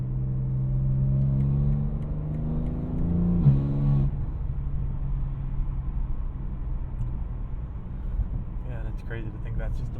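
Revving BMW G80 M3 Competition in M mode with exhaust valves closed: engine pitch climbs steadily, then cuts off sharply, leaving a lower muffled drone as the car keeps moving, heard from inside the cabin.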